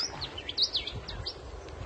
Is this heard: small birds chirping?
yes